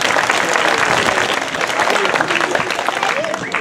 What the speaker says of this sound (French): n'hésitez pas pour les applaudissements